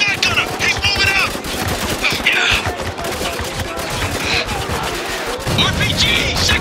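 Dense automatic gunfire and shotgun blasts rattle through a desert firefight in the video game Spec Ops The Line, loud and nearly continuous, with shouted voices mixed into the chaos.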